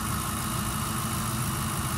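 A 2011 Ford Crown Victoria Police Interceptor V8 idles steadily, a constant loud low rumble with an even mechanical hum and no change in pitch.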